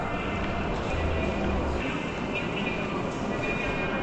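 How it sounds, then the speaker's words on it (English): A steady rumble and hiss of a train at a station in Japan fills the scene, a constant mechanical drone with faint background voices. "That is the train."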